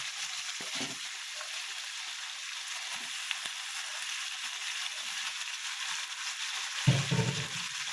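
Meat frying in a pan with browned onions, a steady soft sizzle throughout, with a brief thud of food or utensil near the start and a louder scrape near the end, no voices.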